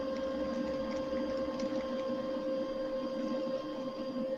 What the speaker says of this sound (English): It's a fan, computer fan or something like that